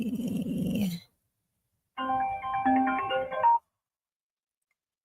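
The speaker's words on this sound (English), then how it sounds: "I'm getting phone calls." A phone ringtone plays a short melodic tune of bright stacked tones, close and clear, after a brief low sound and then silence.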